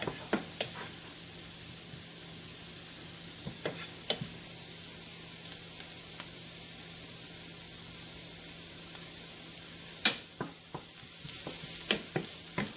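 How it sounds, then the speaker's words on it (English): Onions sauté in a pan for a spicy crab masala with a steady soft sizzle. Occasional sharp clicks and taps from stirring break through the hiss. "Saute well and wait until the onions changes the color."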